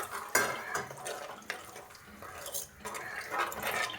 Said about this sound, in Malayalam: ഇതിൻ്റെ അകത്തേക്ക് കുറച്ച് വെള്ളം ഒഴിച്ച് കൊടുക്കാം